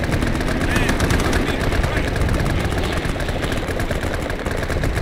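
Dense, sustained machine-gun fire rattles on without a break, loud and close, inside a tabletop-convention wargame of jungle combat.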